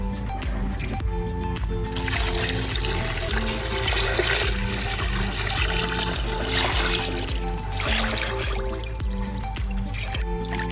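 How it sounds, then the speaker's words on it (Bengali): Katla fish pieces being washed under running water, a steady close splashing stream with squishing and dripping as the pieces are rubbed, over a faint background hum. "মাছ ভালো করে ধুয়ে নিচ্ছি"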